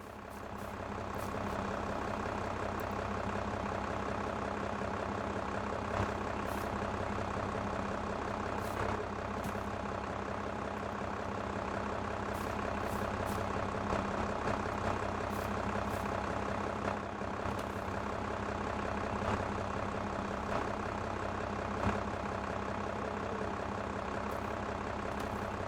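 Steady low engine drone from a tractor in a farming simulator game, continuous and fairly loud throughout with no talking, holding an even idling rumble the whole time.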